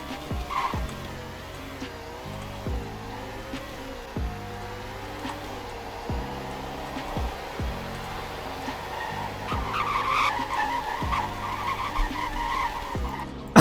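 A 2020 Falcon Scavenger sheriff car in the Greenville game runs a speed test, its engine droning and rising through repeated gear shifts, with bursts of tire skidding and squeal riding over the steady motor, no one speaking.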